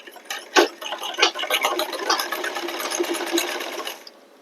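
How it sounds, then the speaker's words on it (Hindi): A sewing machine stitches a belt seam on a blouse, its needle running in a quick, even mechanical patter up close for several seconds after a few short start bursts, with no talking. "इसी के पास हम एक और सिलाई लगाएंगे एक पैर की, इस तरह से।"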